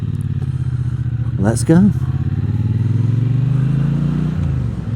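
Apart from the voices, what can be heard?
Triumph T120 motorcycle pulling away and accelerating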